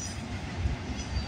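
CN freight train with auto racks rolling past at night, a short steady rumble of wheels and cars close by with no voices.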